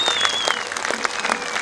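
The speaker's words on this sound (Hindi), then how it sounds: "एक बार हाथ उठाकर तालियां बजाकर जेपी नड्डा जी को हार्दिक अभिनंदन किया जाना चाहिए" An audience at a BJP political event claps for JP Nadda becoming the party's national president. The applause is dense and sustained, with some sharper individual claps standing out from the crowd.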